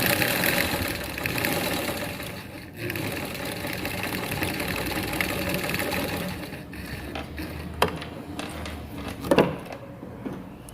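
A sewing machine runs steadily while stitching bias tape close to the edge of the fold, a continuous mechanical hum with a couple of brief sharper clicks near the end.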